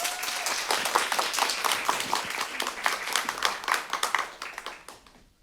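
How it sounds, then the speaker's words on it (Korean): Clapping from a small theater audience at an improvised healing drama performance in Korea, a lively burst of applause that stays steady for about five seconds and then stops abruptly. "환호를 받았어요"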